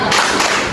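Two quick hand claps in a school clapping chant at an Indonesian madrasah, sharp and close, in a brief loud pair.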